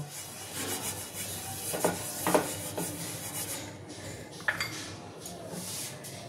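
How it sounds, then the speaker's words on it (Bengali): Soft continuous rubbing of a brush spreading refined oil across a hot griddle, close and steady with a few light scraping knocks. "এবার একটু রিফাইন তেল আমি এর মধ্যে ব্রাশ করে নেব"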